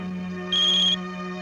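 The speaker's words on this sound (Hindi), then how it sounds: "मुझे मालूम है तुम्हारा ये फोन है।" A phone ringtone in a Hindi action film plays as a brief steady electronic tone that starts suddenly, holds for about half a second and stops, over a sustained background hum.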